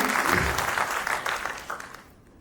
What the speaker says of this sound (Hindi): एक बार महाकाल के नाम पर जोरदार ताली बजा दीजिए